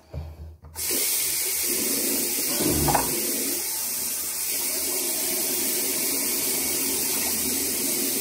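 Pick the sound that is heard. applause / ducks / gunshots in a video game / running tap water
running tap water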